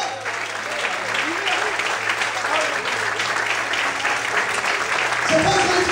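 A church congregation claps steadily for about six seconds. The applause is dense and sustained, mixed with voices and cheering, and swells slightly near the end.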